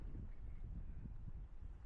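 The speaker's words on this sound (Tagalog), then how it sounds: "Grabe yung lakas ng hangin." Steady, heavy wind roars and buffets the microphone outdoors at a cherry blossom viewing spot in Miyagi, Japan, a continuous low rumble with no voices.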